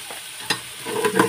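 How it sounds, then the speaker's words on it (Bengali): A spice paste of ginger, garlic and cumin fries in a pan for khichuri as a spoon stirs it. Close sizzling carries scraping stir strokes, with one sharp knock and a busier burst of stirring near the end. "ভালো করে মশলাটা কষাই, খিচুড়ি বসাবো।"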